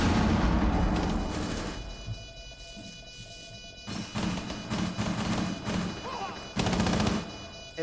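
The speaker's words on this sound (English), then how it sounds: "Rico throws in the frag grenade." A frag grenade blasts in a Rainbow Six match amid ongoing gunfire, with several sharp, loud bangs and booms scattered through the clip over a rumbling background and no clear talk.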